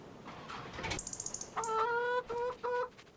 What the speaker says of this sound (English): Why am I in with the chickens?